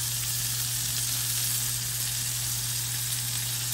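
Seasoned burger patties frying in a pan give a constant, dense sizzle, loud and steady throughout with no voices.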